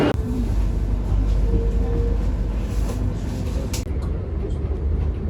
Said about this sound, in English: The train arrives at the Vladimir.